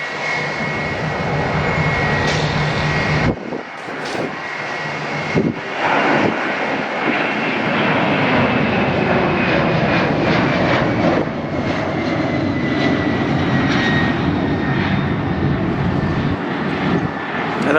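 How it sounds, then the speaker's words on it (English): Boeing 767 jet departing Atlanta airport, an airliner about 27 years old: a loud, sustained engine roar with a whining high tone, brief dips near the start, then steady thunder buffeted by wind noise, with no voices. "talking about 189DN that just took off to Quito"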